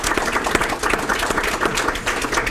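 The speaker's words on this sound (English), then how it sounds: "Let's give them all a round of applause." Applause from the audience at a Women's Council of REALTORS officer installation in Champaign, a dense, even roll of many hands clapping that fills the room with no talk over it.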